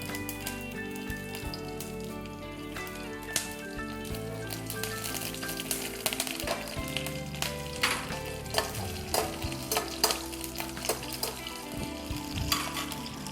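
Curry leaves, mustard seeds and dried chillies sizzle and crackle in hot coconut oil for a beans and carrot thoran, a busy continuous frying hiss dotted with sharp popping seeds and occasional stirring clinks.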